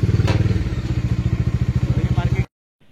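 A motorcycle engine at a parking area at Chupir Char, Purbasthali, thumps close by in a steady, rapid putter for a couple of seconds, then cuts off abruptly into near silence.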